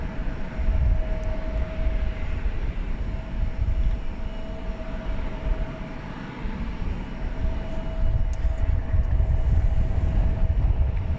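A Cathay Pacific airliner takes off from DFW Airport at night, a steady loud jet roar of engines rumbling and whooshing continuously, swelling slightly toward the end with no one talking.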